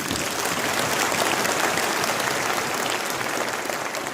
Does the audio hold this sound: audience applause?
yes